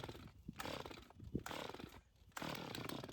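A cold Stihl 021 chainsaw is pull-started in short rasping bursts, several quick cord pulls with brief coughing engine catches between them, close and fairly loud.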